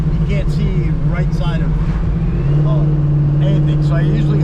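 A low-slung 1951 Henry J rat rod on the move, its engine giving a steady loud drone with a constant low hum and road rumble, while people talk over it inside the car.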